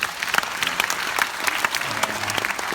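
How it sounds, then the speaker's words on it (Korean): An audience breaks into applause for prosecutors, a steady patter of many hands with a few sharper, louder claps standing out near the front. "정의로운 검사들에게도 여러분 큰 박수를 부탁드리겠습니다"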